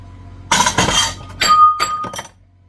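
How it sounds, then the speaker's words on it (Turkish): A plate clatters in a home kitchen, knocking against glass and dishes in two rough bursts of clinks and rattles, loud and close, with a ringing chime before it settles without breaking. "Oh, Valla kırıyorduk tabağı."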